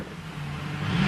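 A Subaru Brumby's engine revs up while the vehicle crosses a creek, a short rising mechanical roar with rushing noise, growing louder toward the end.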